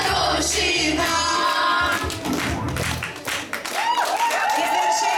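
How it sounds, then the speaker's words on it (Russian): Audience at a New Year 2015 fan performance claps hands loudly and continuously, dense rhythmic clapping mixed with music and crowd noise throughout. "Лучше по-хорошему хлопайте в ладоши"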